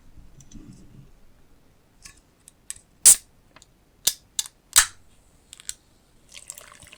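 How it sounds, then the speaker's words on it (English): An aluminum drink can of sparkling beverage cracks open with a sharp pop and fizzy hiss, followed by a few crisp clicks, close and clear in an otherwise quiet room. "Just pop open the can."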